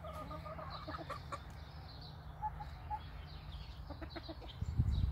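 Chickens cluck softly in a backyard garden, several short calls scattered over a steady low background hum, fairly quiet and unhurried.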